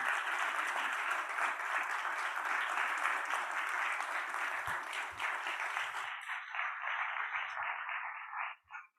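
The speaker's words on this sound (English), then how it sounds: "Please give him a round of applause." Loud, dense applause from the audience at a human rights award ceremony during an investment summit, sustained for about six seconds before thinning to a few scattered claps and fading out.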